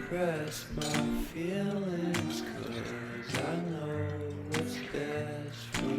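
A spatula stirs egg fry in a pan, giving repeated metallic clinks and scrapes about once a second over a steady, tonal background hum.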